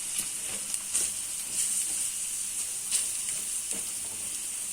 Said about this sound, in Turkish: Şimdi içindeki yağını salı verene kadar güzelce karıştırın.